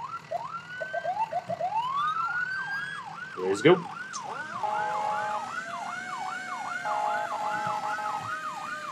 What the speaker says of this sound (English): The sirens in this game really are nice.